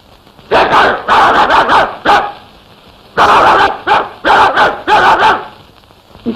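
A dog barks in loud, close bursts, a cluster of rapid barks followed by a pause and then another series of barks, in an old Telugu film scene.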